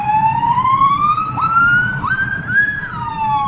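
An emergency siren wails loudly and alone, a rising and falling electronic tone sweeping continuously over low rumbling background.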